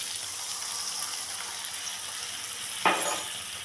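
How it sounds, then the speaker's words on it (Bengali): Water hits a pan of spiced potato curry masala frying in oil and ghee, and a sudden loud sizzling burst rises over the steady close crackle of frying. "এখন আমি দিয়ে দেব পরিমাণ মতো জল"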